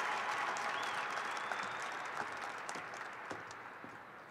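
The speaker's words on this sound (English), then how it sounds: "Please applaud these students for their involvement in clubs and activities." A large crowd at a high school graduation ceremony applauds the students, a steady, distant wash of clapping filling a big hall, gradually easing off.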